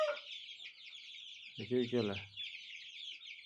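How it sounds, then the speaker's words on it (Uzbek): Chicks and chickens for sale cluck and cheep steadily through the clip, a constant high chatter with a brief burst of lower clucking in the middle, while someone speaks briefly. "Mana sotiladigan jo'jalar."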